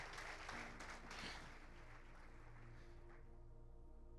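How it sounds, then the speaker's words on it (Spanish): Church congregation applauding during a Spanish-language sermon, a faint burst of clapping that fades within about a second and a half, leaving a quiet, humming room. "Dale un aplauso al Señor."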